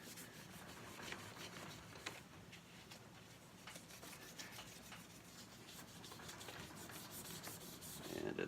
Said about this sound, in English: this is a Magic Eraser that's already been used